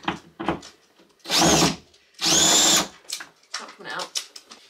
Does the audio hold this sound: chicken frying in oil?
no